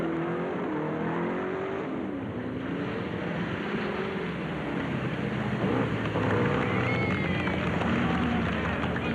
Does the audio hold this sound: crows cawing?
no